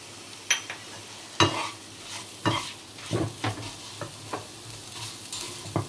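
Chicken for a Bengali-style chicken ghanto sizzles steadily in a pan as Kashmiri red chili powder is added, with sharp stirring clatters and scrapes spaced irregularly over the close frying hiss.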